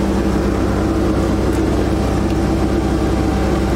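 The OM642 diesel engine of a Jeep Grand Cherokee holds steady at 2,000 RPM during a DPF regeneration, a constant loud droning hum with no change in pitch and no talk.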